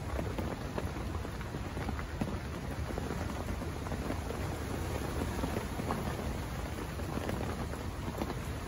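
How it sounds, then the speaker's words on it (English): Steady rain falls in gloomy winter weather, a dense, even hiss of drops on surfaces that continues without pause, moderately loud and close, with no voices. "Lovely and rainy and gloomy."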